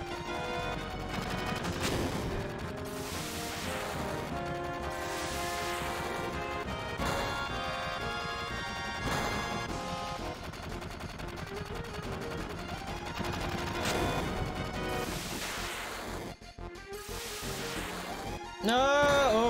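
Bursts of rapid gunfire crackle in the Final Fantasy VII video game, amid a dense, busy soundscape of music and effects, with several loud volleys and a heavy crash near the end.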